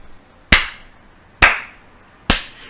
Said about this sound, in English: Insano walked out of the shadows with a slow clap.